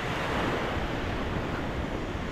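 Sea waves wash onto a beach in a steady, loud roar of surf, mixed with gusty wind buffeting the microphone and no talking.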